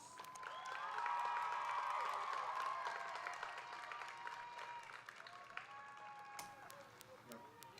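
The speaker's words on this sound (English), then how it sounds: "Let's give them a big round of applause" Audience applause at the Momentum High School 2023 graduation ceremony, a dense, loud wash of clapping with scattered cheers that swells early, then slowly thins as a voice carries over it.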